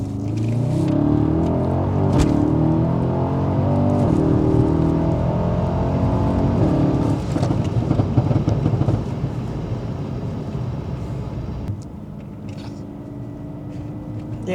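Exhaust of a Mercedes S63 AMG fitted with BTS downpipes and a tune, rising and falling through a downshift with a loud, rumbling engine that stays up close and steady for most of the stretch before easing off near the end.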